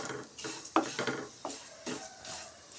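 Vermicelli roasting in a pan on a low flame is stirred with a spoon, giving a series of light scraping and tapping strokes against the pan with a soft, faint rustle between them.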